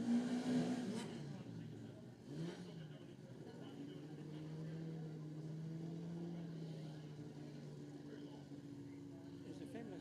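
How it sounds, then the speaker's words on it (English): A race car at the Rob Roy Revival 2025 motorsport event pulls away with a steady, high whine from straight-cut gears. The whine is fairly faint and distant, and a voice talks over it. "Nice whine of what sounds like straight cut gears to me."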